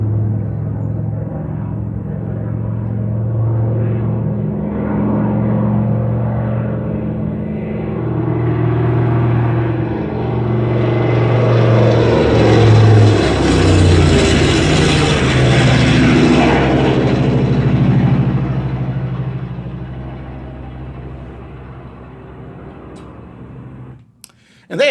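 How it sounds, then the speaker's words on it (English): A radial-engine biplane drones overhead, growing from a distant hum to a loud throbbing roar at fairly high RPM, then fading away as it passes. "a double wing Radial engine powered aircraft flying over with that special sound"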